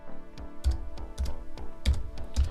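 Keys clack on a ZX Spectrum Next computer keyboard in a slow, irregular run of about seven distinct presses, each a close, crisp tap with a dull low thump, heard alone without talk.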